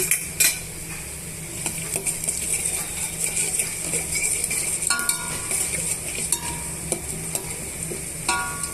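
Garlic cloves with tempering spices frying in hot oil in a pan, a loud steady sizzle with sharp clicks and scrapes of a metal spoon stirring, close up and without voices.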